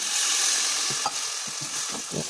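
Brief sizzling in a frying pan as chicken curry is stirred, with a few soft scraping stirs of a utensil, close and fairly quiet, no voices.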